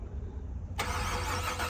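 A loud car engine cranks and catches partway through, jumping from a low rumble to a full, roaring idle that holds steady.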